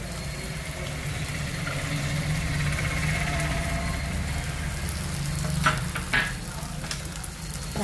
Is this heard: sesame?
yes